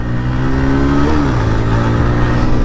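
A 2024 Bajaj Pulsar NS125 and a TVS Raider 125, both 125cc motorcycles, race at speed, their engines droning loudly and steadily with a rising and falling pitch as gears change, close and continuous with wind noise.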